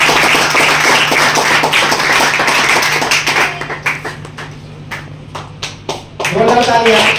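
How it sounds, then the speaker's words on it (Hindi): Applause welcomes the school director at an academy opening ceremony: loud, dense clapping from an audience at first, thinning into scattered individual claps before a voice speaks over the end. "जोरदार तालियां।"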